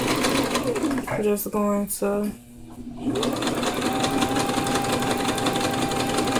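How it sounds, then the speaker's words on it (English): A sewing machine stitches a straight seam in fabric for a ruffle maxi skirt, running in short bursts with a rapid mechanical whir that stops and then resumes steadily, while someone talks over it. "I've already threaded my machine and everything."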